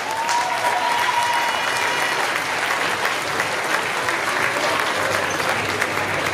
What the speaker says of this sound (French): applaudissez les cosplayers